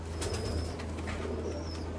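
Pet pigeons kept for sale coo softly in a rooftop loft, low throaty calls repeating over a steady background hum, with a few faint chirps and no voices.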